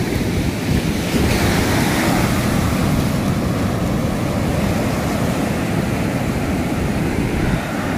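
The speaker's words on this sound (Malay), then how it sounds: "Ombak besar, geng." Heavy surf pounds the shore at Timang Beach, Jogja, as big ocean waves break in a constant loud roar, with strong wind noise rumbling across the microphone.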